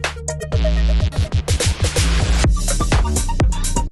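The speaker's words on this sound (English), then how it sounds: "now you can hear what this transition sounds like now that we have sweeps and fills" A dense electronic music passage with a rising noise sweep and a run of quick drum hits building toward a change.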